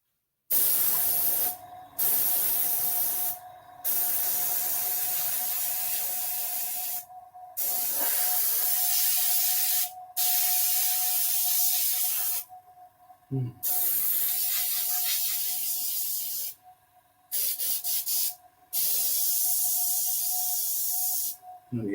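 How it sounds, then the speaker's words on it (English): An airbrush hisses in repeated bursts of a few seconds each, separated by short pauses, close and fairly loud, with a faint steady tone running underneath. "The airbrush is not playing up."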